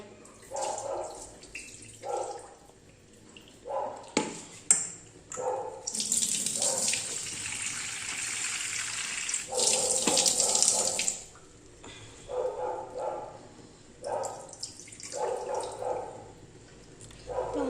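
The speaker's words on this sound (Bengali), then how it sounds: "মটর ডালটাকে ধুয়ে নিয়ে নিই" Split peas (matar dal) being washed under a running kitchen tap, with rushing water in two bursts between quieter stretches of rinsing, swishing and dripping, close and moderately loud, no talking.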